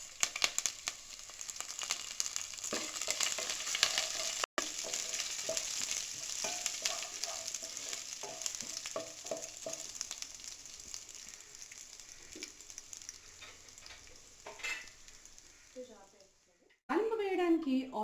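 Tempering spices and lentils frying in oil and ghee in a pan, a continuous close sizzle and crackle with stirring scrapes, someone talking over it, and the hiss fading toward the end.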